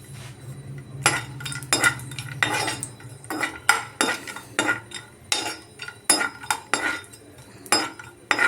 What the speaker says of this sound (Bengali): ঘিতে হালকা করে ফ্রাই করে নেবো।